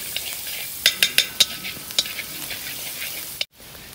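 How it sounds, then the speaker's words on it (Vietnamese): Minced garlic sizzles steadily in hot butter for black-pepper crab, with several sharp spatula scrapes and taps against the pan before the frying cuts off abruptly. "Rồi bỏ phần tỏi băm hồi nãy vô, phi cho thơm lên"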